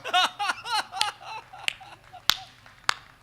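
Audience laughter at a Hindi comic poetry gathering gives way to a few sharp, scattered hand claps, crisp and isolated against a quiet room.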